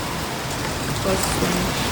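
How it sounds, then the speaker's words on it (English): Steady rain falls outside near student accommodation in Manchester, a continuous broadband patter that stays even throughout with no other distinct sounds on top. "Oh, it's raining."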